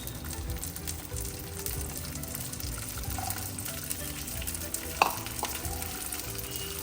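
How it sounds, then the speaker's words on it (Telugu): Corn hits hot oil in a pan with a continuous crackling sizzle and an occasional stirring scrape, a sharper clink near the end, and no one speaking. "ఆయిల్ కొంచెం బాగా హీట్ అయ్యాక ఇవన్నీ లోపల వేసుకుంది. ఫస్ట్ మనం కొంచెం కార్న్ వేసి చూద్దాం."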